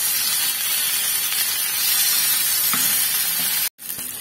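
Masala-coated fish frying in a pan gives a loud, steady, close hiss of sizzling oil that cuts off abruptly near the end.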